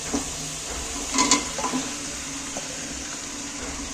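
Fried chicken pieces are tipped into a cooked-down spice paste and stirred, bringing a burst of sizzling and scraping clatter over a steady frying hiss, close and fairly loud.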